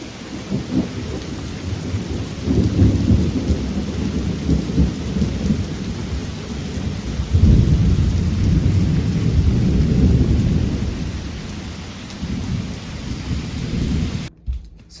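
A fresh thunderstorm rumbles with long, loud rolls of thunder over steady rain, swelling twice in heavy waves before cutting off abruptly near the end.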